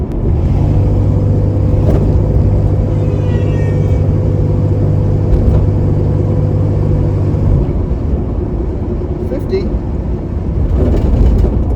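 A 1969 Plymouth Barracuda with a 225 engine and a makeshift throttle linkage drives along a parkway, its engine giving a steady, loud low rumble with a droning hum that fades slightly near the end, under faint cabin noise.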